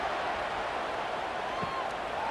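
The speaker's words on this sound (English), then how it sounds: "Night games are always so loud, so obnoxious, and these fans, they get something to cheer about with that first offensive possession." A stadium crowd roars in a steady, distant wash during a night college football game in a simulated Clemson versus Pittsburgh matchup.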